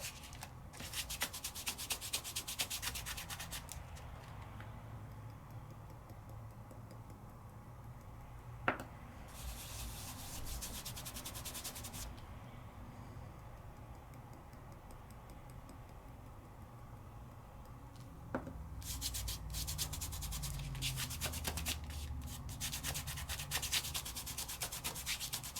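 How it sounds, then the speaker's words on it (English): Glitter is rubbed by hand across a sticky double-stick peel-off sticker. It makes a steady, close, soft rubbing and brushing sound, with denser bursts in a few stretches and two sharp ticks, and nobody talks. "I start to move my glitter. And I start to fill in every place that is sticky"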